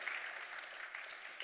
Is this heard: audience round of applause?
yes